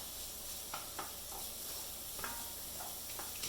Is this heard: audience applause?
no